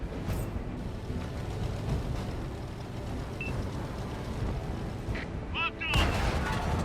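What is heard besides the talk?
tank cannon firing in World of Tanks video game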